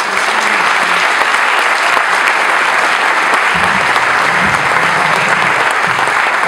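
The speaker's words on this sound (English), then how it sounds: "I'd like you to give them a round of applause for the way they came to the community." An audience at a Conant High School academic achievement ceremony gives students a loud, dense round of applause that stays steady and sustained throughout, with faint voices underneath.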